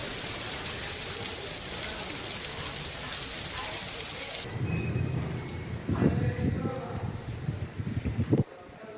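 A heavy rainstorm with thunder in Bihar: loud, dense rain roars steadily for several seconds, then drops to a lower rumbling wash with deep thunder-like booms and scattered bursts, and a voice may be heard over the storm.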